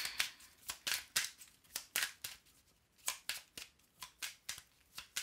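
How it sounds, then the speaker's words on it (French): Cards from a deck used for a tarot-style reading are handled and drawn: a quick series of crisp, papery slides and flicks, close and fairly quiet, with no talking. "On va retirer juste une dernière carte."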